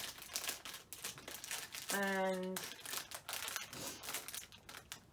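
A small plastic bag from a Flying Tiger surprise bag crinkles and rustles in short bursts as it is handled, with a brief tonal squeak partway through and a voice speaking over it.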